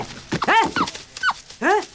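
A dog gives a few short, close whimpering yelps and whines in quick uneven bursts, with no talking.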